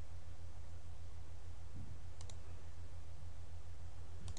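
A computer mouse clicks while working in Siemens NX CAD software, giving a couple of brief, sharp, faint clicks over a steady low electrical hum.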